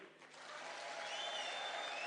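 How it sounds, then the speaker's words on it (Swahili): Crowd applause at an outdoor political rally in Bori, Meru, Kenya, swelling from a faint start into steady, moderately distant clapping with some crowd noise, no clear talk over it. "pigeni makofi."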